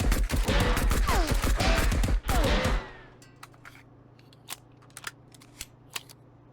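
Hip-fired single-fire shots from a gun in the video game Marauders, a dense rapid volley of loud, close reports lasting under three seconds, then near silence with a few faint clicks.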